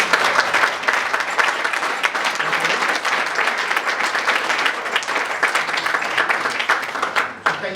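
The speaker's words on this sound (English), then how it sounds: "So can we give a round of applause to those 6?" A school audience gives a sustained round of applause, dense clapping from many hands filling the room steadily for several seconds with no voices over it.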